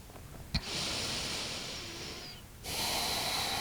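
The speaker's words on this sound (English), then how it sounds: "Take a few long, deep breaths." A long, deep breath drawn and released during a hatha yoga forward fold, a soft airy hiss after a brief sharp click, ending in a steadier exhale.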